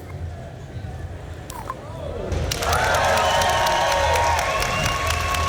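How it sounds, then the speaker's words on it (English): A group of people cheering and whooping together, rising from quieter chatter into a loud, sustained burst of woo-ing and shouts that holds steady to the end. "So that's everyone cheering."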